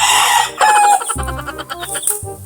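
Loud chickens close by, with clucking and a drawn-out rooster crowing call over a busy background of other fowl sounds.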